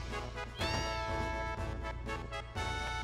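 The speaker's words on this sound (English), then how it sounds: "I hear a cat." A cat meows in the Final Fantasy VII game, a drawn-out call over steady game music that fills the whole stretch.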